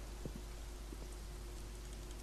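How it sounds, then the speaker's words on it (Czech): Rain falling in the Czech adventure game Posel Smrti 2, a steady, faint wash of downpour hiss with a low rumble underneath and a few soft patters, no voices. "Je, ono zase prší."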